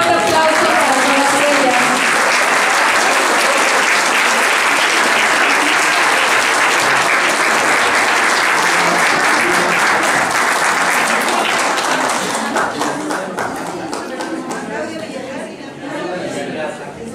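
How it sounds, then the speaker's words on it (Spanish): Loud, prolonged applause from a crowd at a ceremony honoring women's philanthropic work, mixed with chatter, fading somewhat toward the end as voices and scattered claps remain. "Un fuerte aplauso."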